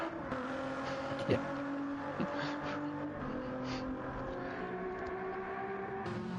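A Ford GT Group 3 race car engine in a racing game drones steadily at moderate loudness with a faint rising whine, and a voice briefly speaks over it.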